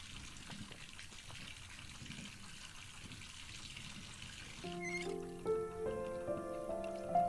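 Rusty water runs in a soft, steady trickle in the Botany Manor video game, faint and continuous; partway through, a bright chiming melody enters over it.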